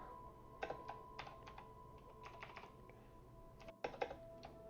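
Typing on a computer keyboard to enter a username while setting up a game: short bursts of soft key clicks with pauses between, over a steady tonal hum and quiet background.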